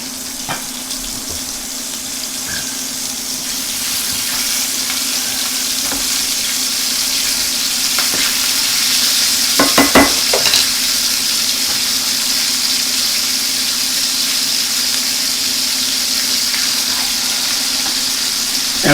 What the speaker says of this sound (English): let's go ahead and let's put our burger patties in